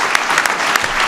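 A brief, loud burst of dense clapping from the audience at the 2015 Presidential Medal of Freedom ceremony, close and continuous with a few sharper individual claps standing out.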